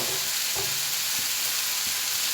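Saag greens of bathua, spinach and mustard leaves dropped into a hot mashed tomato mixture in a pan, a steady close sizzle with a few soft stirring thumps.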